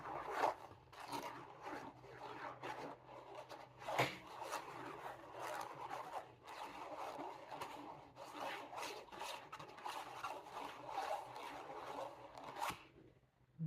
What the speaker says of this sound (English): I'm going to let you hear the sound of the box.